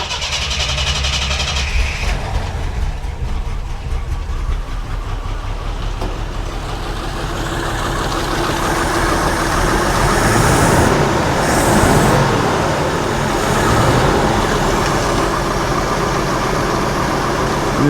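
A carbureted Jeep Scrambler engine, just fitted with a swapped carburetor and fuel pressure eased to about 5.5, runs steadily and loudly close by, its rough rumble swelling slightly midway with no talk over it.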